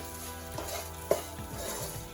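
Okra (bendakaya) fry with all its ingredients added, sizzling steadily in a pan at close range while being stirred, with a few short scraping strokes and one sharp clink against the pan.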